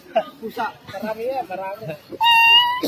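A voice imitates a cat meowing, a single drawn-out, tonal meow near the end that comes after a stretch of conversational talk from several people.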